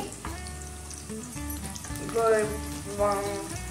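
Food sizzles in a hot pan during home cooking, shortly before tempering spices go in: a steady, close frying hiss running the whole time alongside tonal background sounds.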